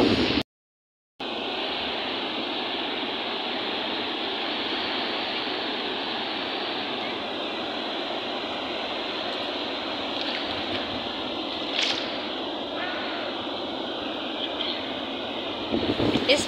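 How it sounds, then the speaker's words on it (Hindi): Steady broadband roar of sea waves breaking along Karachi beach, a continuous dense wash of surf that runs unbroken for the whole stretch after a brief cut near the start. "इस वक्त सिर्फ समंदर का शोर ही शोर है"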